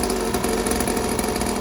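A 49cc mini moto dirtbike engine runs steadily at a buzzing idle after a fresh start, loud and close with no talk over it.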